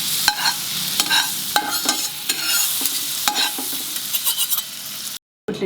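French toast fries loudly in a pan, a close bright sizzle broken by repeated sharp scraping strokes of a spatula, ending in a brief cutoff.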